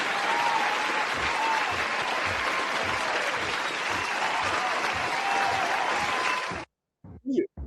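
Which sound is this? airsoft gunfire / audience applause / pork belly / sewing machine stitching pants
audience applause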